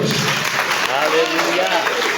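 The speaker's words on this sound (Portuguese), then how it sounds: "aplauda aquele que vive nessa noite." A church congregation applauds during an evening service, with clapping mixed into prominent voices and cheering that continue over it, close and fairly loud.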